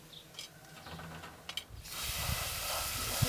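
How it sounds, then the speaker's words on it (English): Running water rinses salted food on a farm, starting with scattered clinks and handling noises, then a steady hissing water stream that continues to the end. "we're going to rinse them off"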